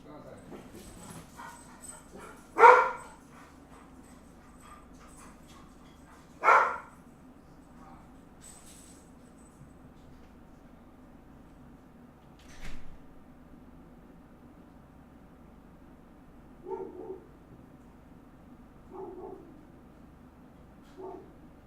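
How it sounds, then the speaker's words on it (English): A pet dog barks in short, separate bursts, a few loud single barks followed by softer, more distant ones from outside a window, with long quiet gaps between them and no talking. "I'm gonna put the dog outside really quick because she's just barking a whole bunch"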